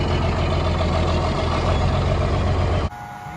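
A tractor with its warning lights on, pulling a seed planter for beans, sounds loud and close. A steady heavy engine drone ends abruptly when the clip cuts to a quieter scene with a faint tone.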